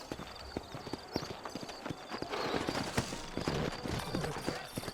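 Steady clip-clop of horse hooves on a hard surface in the video game Red Dead Redemption, rhythmic and fairly close, with ambient game sounds and a brief voice mixed in.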